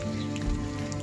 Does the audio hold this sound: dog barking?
no